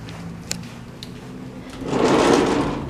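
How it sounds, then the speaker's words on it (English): A sliding closet door in a bedroom of a house rolls open with a soft, rushing slide that swells and fades near the end, preceded by a few faint clicks in a quiet room. "Closet doors just slide open."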